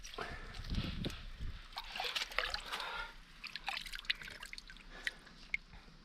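Spring water trickling out from underground on the side of a volcano in St Vincent in the Caribbean, a faint close gurgle and drip, with people talking nearby.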